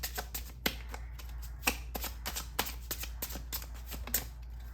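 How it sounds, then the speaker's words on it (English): Tarot cards being shuffled, a run of crisp, close card flicks and riffles in an irregular rhythm over a low steady hum, with no talking. "Let's pull out a few more tarot cards."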